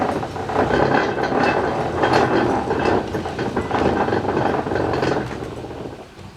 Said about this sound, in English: one thing about a little light carriage is you can push it